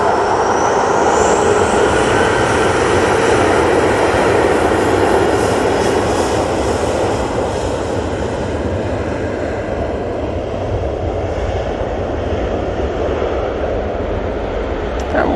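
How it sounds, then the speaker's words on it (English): A jet airliner takes off at Manchester Airport, its engines giving a loud, sustained roar that stays strong for the whole stretch and eases only slightly as it climbs away. "we'll dedicate this takeoff to you"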